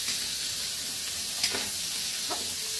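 Onion, garlic and ginger sizzle in a hot frying pan, a steady broadband hiss with a couple of brief sharper crackles, close and alone without talk.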